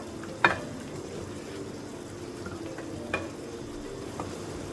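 Tangra fish curry with eggplant fries in a pan as roasted black cumin powder goes in, giving a steady, soft sizzle with a few sharp utensil taps and stirring clinks. No one speaks.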